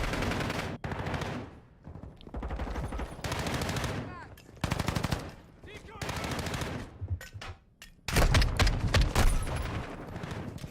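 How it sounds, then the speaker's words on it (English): Decoy grenade in Call of Duty MW2 giving off loud bursts of fake automatic gunfire, several long rattling volleys separated by short gaps, with a heavier burst near the end. "Decoy grenade out."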